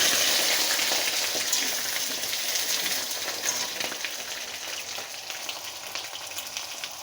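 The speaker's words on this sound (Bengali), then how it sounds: "তেলটা একটু গরম হয়ে গেলে আমি দিয়ে দেব আলু" Cut potatoes frying in hot oil: a loud, close, continuous crackling sizzle that eases slightly over time, with no voices.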